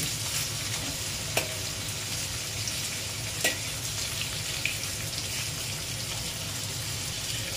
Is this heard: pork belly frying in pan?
yes